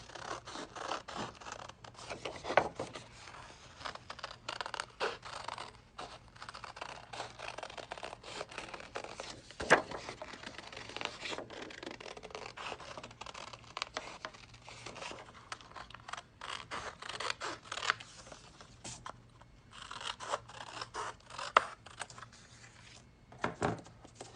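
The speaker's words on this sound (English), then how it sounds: "I'm simply going to cut it out" Scissors snip through paper while a butterfly shape is cut out for a scrapbooking craft, with steady close-up cutting and rustling running throughout and no voices.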